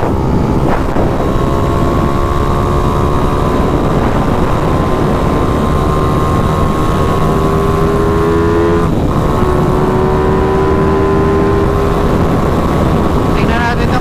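Several racing motor scooters, including a Yamaha NMAX, rev loudly and continuously, with engine tones rising and falling as they run together and a voice over the roar.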